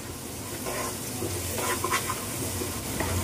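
Onions salted and frying in a pan sizzle steadily up close, a continuous soft crackle with brief stirring scrapes and no talking.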